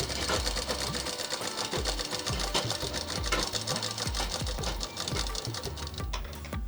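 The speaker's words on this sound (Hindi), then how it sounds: "पूरे भाग को सिल लेंगे" A sewing machine stitches along the rounded edge of a frock strip, running in fast, rhythmic bursts of mechanical clatter close up, with brief slowdowns between runs.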